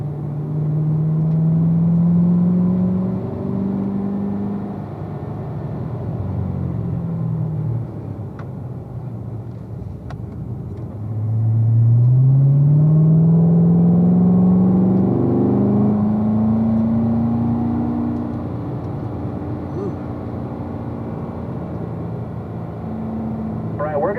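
A car on a race track braking in a straight line and downshifting with the paddles, its engine loud and close, with pitch sweeps rising and falling through the gears and a sustained climb midway, alongside an instructor's voice.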